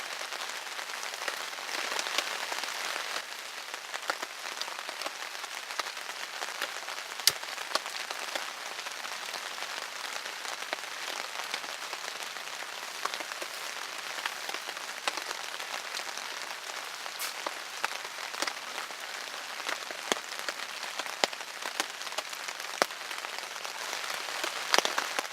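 Steady rain patters on a tarp on a cold winter day, a dense, even hiss of countless drops with occasional louder ticks, close and continuous with no voices.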